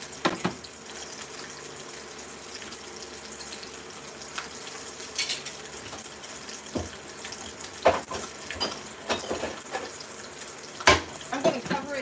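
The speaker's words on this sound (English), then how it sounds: "Whoa, our barbecue sauce is boiling." Barbecue sauce boils in a pot, a soft bubbling and sizzling bed broken by scattered sharp pops and clicks, fairly quiet and close.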